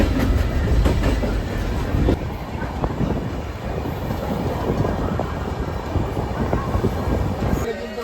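A moving passenger train, the Kanchankanya Express, rumbles steadily with continuous rattling and clatter from the carriages, loud and close throughout.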